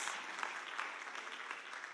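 A church congregation claps together during a bilingual sermon, a soft, fairly distant wash of steady applause with no clear individual claps standing out.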